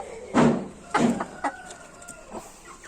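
A rooster on a farm gives about four short, loud clucking calls in quick succession, close by, with no talking.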